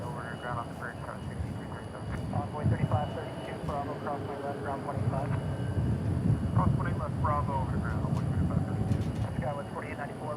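An airplane takes off at DFW International Airport, a broad, steady engine roar that swells slightly toward the end while people talk over it throughout.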